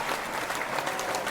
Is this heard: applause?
yes